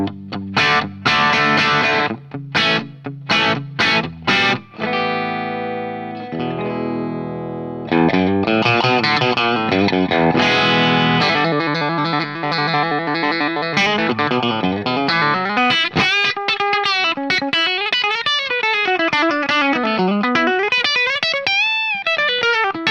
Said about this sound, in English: So now let's try out some crunch tones.